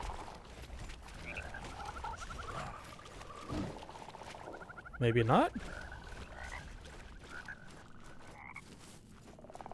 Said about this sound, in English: I think I have frogs chasing me.